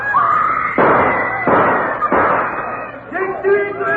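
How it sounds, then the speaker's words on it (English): Gunshots in a courtroom for a radio drama about the Dreyfus affair, several loud sharp bursts in a row followed by an uproar, with voices shouting over and between the shots. "Gunshots have thrown the courtroom into turmoil."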